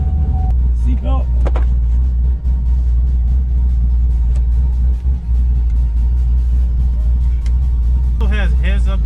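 A deep, loping engine rumble from a 2012 Chevy Camaro SS V8 with a big cam idles throughout, uneven and throaty, while a person talks over it.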